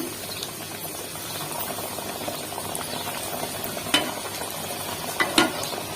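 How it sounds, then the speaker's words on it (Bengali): Chicken pieces frying in hot oil bubble and sizzle evenly for a crispy fried chicken. A couple of light utensil clinks come near the end, close by and with no speech. "বাকি অর্ধেকটা এইভাবে ভেজে নেবো আমি বাকিগুলো আমি দিয়ে দিচ্ছি"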